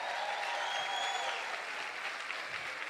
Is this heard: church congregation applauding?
yes